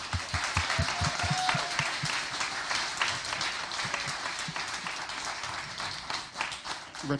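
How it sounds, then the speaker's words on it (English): Audience applause at a spelling bee championship, a steady wash of many hands clapping at moderate distance, fairly quiet overall, with a few sharper individual claps near the front. "Let's give her a big round of applause for a job well done."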